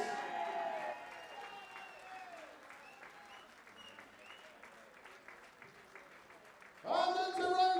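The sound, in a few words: audience applause for a darts player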